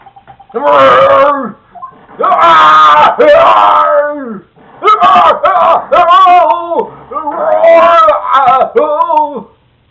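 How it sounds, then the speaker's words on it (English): A man screams in the video game Phoenix Wright: Ace Attorney, with loud, strained, anguished cries in four long bursts separated by brief gasping pauses, close and dominant. "That scream. I've heard that scream before."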